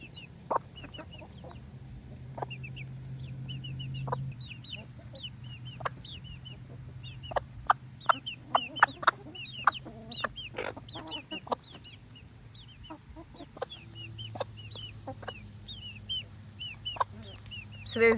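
A broody mother hen clucks low and steadily among her chicks, whose frequent high peeping chirps scatter over the clucks at close range with no talk.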